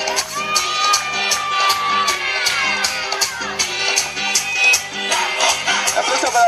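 A River fan crowd at a live party sings and cheers along with music, a loud rhythmic mass of voices and clapping over a pounding beat.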